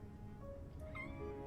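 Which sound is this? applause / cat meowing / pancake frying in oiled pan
cat meowing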